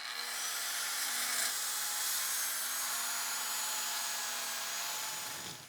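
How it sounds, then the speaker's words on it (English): A Festool TS55 circular track saw cuts through plywood on a multifunction table, a sustained high-pitched whining cut at close range that holds steady before tapering off at the end. "Today I'm using the Festool TS55 and the MFT, but this could easily be done on your table saw or with another circular saw and guide"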